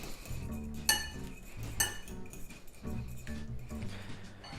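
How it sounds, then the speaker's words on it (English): Egg yolks are whisked in a bowl, making faint, unhurried clinks of the whisk against the bowl every second or so over a quiet kitchen background. "I'm gonna whisk these up"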